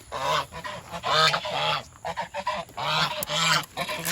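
Geese on a homestead give loud, nasal honks in irregular bursts, several birds calling close by and overlapping each other.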